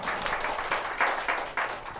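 An audience claps for a teaching assistant at a church theology lecture, a short burst of many hands with loud pulsing swells about every quarter second, fairly near and continuous, with no voices over it.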